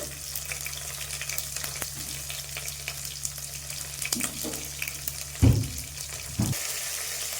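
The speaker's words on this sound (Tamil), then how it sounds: "எல்லாத்தையும் போட்டு நல்லா வதக்குவோம்." Quiet sizzling as chillies and vegetables sauté in hot oil, with faint scraping and a couple of louder clunks partway through, no talking.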